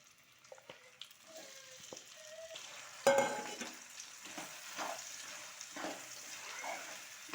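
Okra (bhindi) frying in hot mustard oil, a soft steady sizzle with occasional stirring scrapes and a sharper hiss as the vegetable hits the pan, fairly quiet and without speech.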